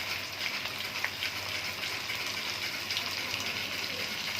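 Tap water pours steadily into a container in a home kitchen, a continuous hissing gush at moderate volume with no voices over it.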